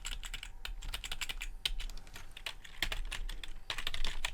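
Rapid clicking keystrokes on a computer keyboard while JavaScript code is typed, close and fairly quiet, with uneven bursts of key taps and no talk.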